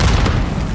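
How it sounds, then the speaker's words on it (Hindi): Rapid bursts of gunfire and booming impacts from a Call of Duty: Modern Warfare II firefight fill a short, loud moment, dense and close without pause. "गोलियां चली जा रही हैं किधर से आ रही हैं"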